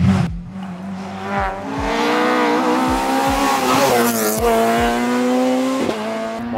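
A historic rally car on the Killarney Historic Rally stage roars past close by, engine note rising and falling through gear changes with sharp shifts, loud and dominant with no talk over it.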